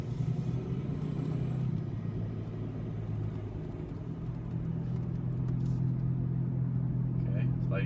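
Worn passenger-side front wheel bearing on a 2006 Chevy Uplander, heard from inside while driving on a road at around 40 km/h: a steady low droning hum with road rumble, continuous and fairly loud throughout, with a voice speaking over it.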